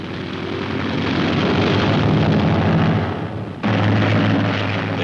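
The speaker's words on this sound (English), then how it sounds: "The robot missile is catapulted aloft" Robot drone built from a semi-obsolete Hellcat fighter carrying a one-ton bomb load, catapulted aloft from the carrier USS Boxer, a loud sustained engine roar with a sudden surge partway through, on old newsreel sound.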